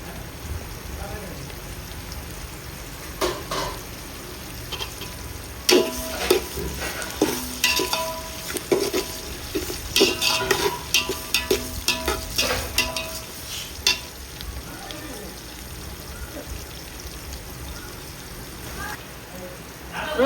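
Onions and green chillies are stirred and sautéed with salt in a pot for a country chicken biryani, giving a soft steady frying sizzle broken by bursts of scraping and clattering stir strokes, close by under brief talk.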